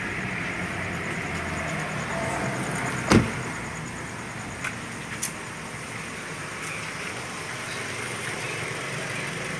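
A 2010 Toyota Camry 2.4L engine idles steadily at the exhaust, a low even rumble held close throughout, broken by one sharp knock and a couple of faint clicks, with no talking.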